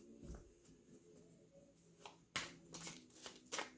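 Tarot cards are shuffled with soft riffling and slapping bursts, growing louder toward the end, quiet and close.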